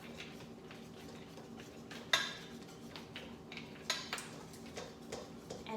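A spoon clinks against a bowl while vanilla is stirred into batter: soft scraping and a few sharp, faint taps.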